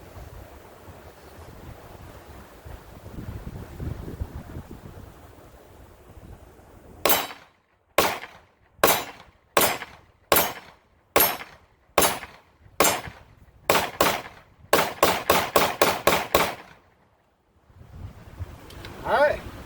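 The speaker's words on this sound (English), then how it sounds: "Now we're going to try 17 rounds of the cheaper Federal Plinking stuff." A Stoeger STR-9 9mm pistol firing cheap Federal plinking rounds at an outdoor range: sharp, loud shots, first steadily spaced, then a rapid closing string, with wind and ambient noise before and after.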